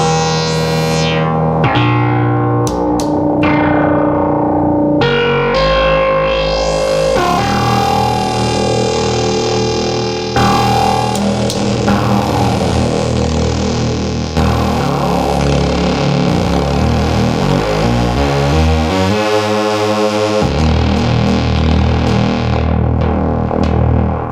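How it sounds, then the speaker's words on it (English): A restored 1972 Minimoog synthesizer plays loud, sustained notes while its filter is modulated, the tone sweeping and shifting brightness across changing pitches in one unbroken stretch of distorted, effect-laden sound. "Now what you're hearing now, we're just modulating just the filter."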